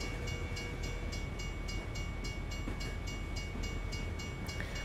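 A train rolls past in the American Truck Simulator game, a steady loud rumble of railcars with a regular clickety-clack rhythm throughout and no talking.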